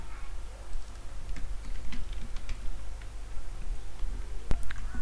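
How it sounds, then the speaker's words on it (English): Light, irregular keystrokes on a computer keyboard, quiet and close over a low background hum, with a sharper key press near the end. "and I type reset"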